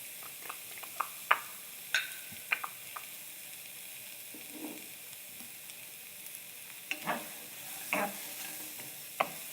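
Onions stirred and sautéing in a dry pan with no oil, scattered scraping and clacking strokes of a utensil with faint sizzling between them, close and intermittent.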